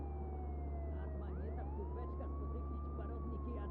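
A police car siren in the video game Contraband Police wails with rising and sweeping tones over a steady low engine rumble, moderately loud and continuous.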